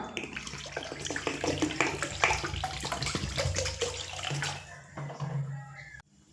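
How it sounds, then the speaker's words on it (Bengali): Water pours steadily into a pot of washed lentils set to boil, a continuous splashing gush that runs for several seconds before cutting off abruptly. "এবার এখানে ডালগুলো সিদ্ধর জন্য দিয়ে দেব পরিমাণ মতো জল"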